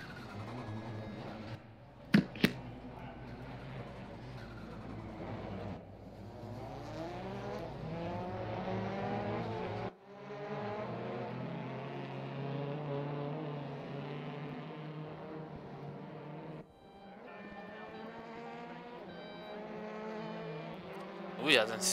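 Race car engines in the RaceRoom sim racing game run at a GT at Sonoma, a steady high-revving drone with rising and falling gear pulls and shifts, continuing loud throughout, with a brief sharp click early on.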